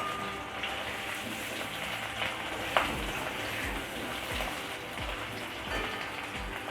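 Boiled potatoes fry in a pan, giving a dense crackling sizzle like patter on a surface, fairly quiet and continuous with a few sharper pops.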